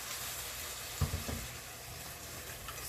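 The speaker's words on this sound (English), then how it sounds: "that sizzle." Lactose-free 2% milk poured into a hot pan for sausage gravy, a soft, steady sizzle with a few brief bumps of stirring, fairly quiet and without voices.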